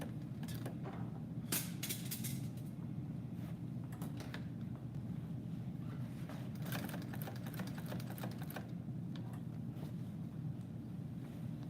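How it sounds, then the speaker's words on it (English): A sewing machine stitches steadily, its fast mechanical whir running continuously with occasional clicks and rattles, fairly quiet and close by. "You're doing all kinds of shit on that sewing machine I didn't know it would do."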